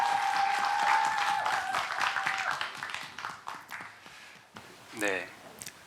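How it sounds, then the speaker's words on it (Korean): Audience at a youth policy presentation festival applauds a presenter, a broad wash of clapping that tapers off over several seconds while a voice speaks over it early on. "박수 함께 보내주십시오."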